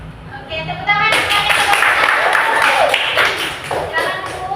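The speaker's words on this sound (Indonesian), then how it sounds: "Oke, tepuk tangan." Classroom students clapping hands during a microteaching social studies lesson at an Indonesian university, starting abruptly after a quiet moment and continuing as a brisk, moderately loud patter with voices mixed in.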